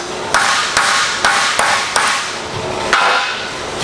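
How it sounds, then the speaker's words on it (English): A hammer strikes a steel rear fender of a VW Bug being widened, seven sharp metallic blows at an uneven pace, close and loud over a continuous background hiss. "We can hammer it a little more"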